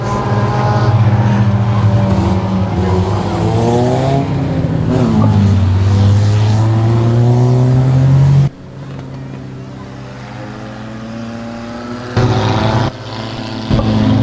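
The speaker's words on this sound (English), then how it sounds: "The 11 of Kevin Peace out front with the lead here in your four-cylinder heat of the night" Four-cylinder race cars roar around Boothill Speedway during a night heat race, loud engines revving and climbing in pitch as they pass, dropping to a lower steady drone partway through.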